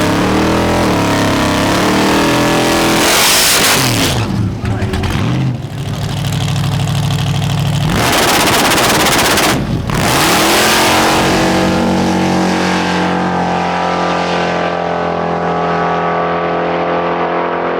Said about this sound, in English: we're hoping to leave on the trans brake, on the two-step today